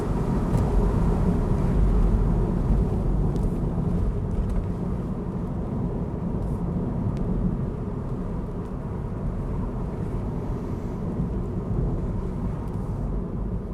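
A car cruising in third gear along an open road, a steady low engine drone and road rumble throughout, heard from inside the cabin with no talking.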